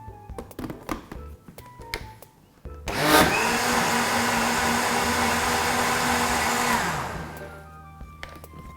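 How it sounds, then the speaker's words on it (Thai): Blender whirring a pumpkin ice cream mixture, starting after a few clinks and knocks and running loud and steady for about four seconds before spinning down. "เดี๋ยวปั่นให้อีกทีนึงก่อนค่ะ"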